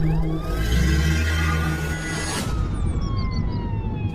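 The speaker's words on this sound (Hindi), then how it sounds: "तभी पुलिस की गाड़ी सुरेश के घर आती है।" A police siren wails nearby over a low engine hum, then trails off and fades into the distance.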